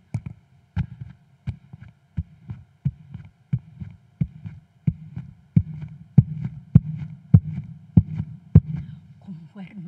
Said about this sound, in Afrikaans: kom hoor my hartklop vir jou